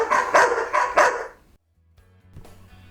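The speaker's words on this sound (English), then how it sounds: "That was 3 barks, not 6." Laney the dog barks three times in quick succession, loud and close, followed by a quiet stretch with faint low rumbling.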